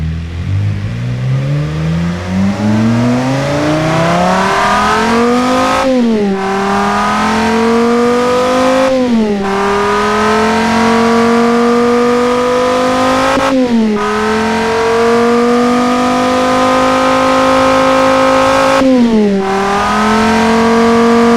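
A V10 engine in the Automation car-building game revs loudly and smoothly, climbing through repeated gear-like sweeps with brief dips between pulls, steady and alone throughout.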